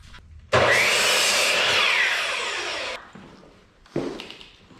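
Wooden blocks being cut to 10-inch lengths with a power saw during house framing, a loud steady whine for about two and a half seconds that tapers off, followed by another short burst of cutting.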